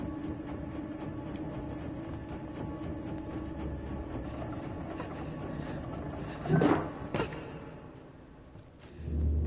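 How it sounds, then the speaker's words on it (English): A train rolls through a video game level, a steady rumbling wash of rail noise with a louder surge as it passes close, then fading before another swell at the end. "I like how that train comes in at just the right time to distract you here."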